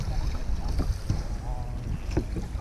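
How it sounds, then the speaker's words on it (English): Oars paddle a rowboat on Loch Lomond, with irregular splashes and knocks under steady wind buffeting the microphone. "A lot of paddling to do."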